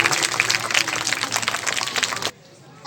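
An audience at a school Republic Day celebration applauds a student singer, a dense steady wash of clapping that cuts off abruptly near the end, leaving quiet room tone.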